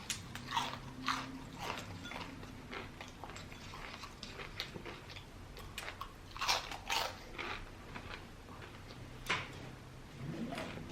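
Crunchy Arby's food bitten and chewed close to the mic, a run of sharp crackling crunches in uneven bursts with no talking.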